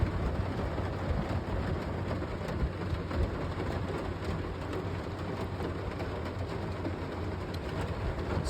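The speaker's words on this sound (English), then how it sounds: "we get our first thunderstorm in the van too" Steady heavy rain drums on the roof of a camper van during a thunderstorm, a dense continuous patter with low rumbling underneath, close and enveloping throughout with no talking.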